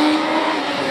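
Rallycross race cars, including two Skodas, launching off the start line together, a loud, dense roar of revving engines that fills the whole short moment without any talking over it.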